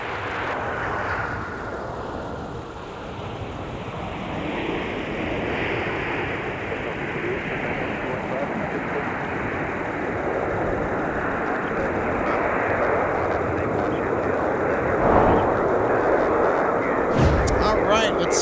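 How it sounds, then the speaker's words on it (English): A United Airbus A319 airliner arriving at MSP airport in winter, its jet engine roar a broad steady wash of noise that swells gradually, heard at a distance with a brief louder burst near the end. "let's take another look at our incoming United Airbus A319"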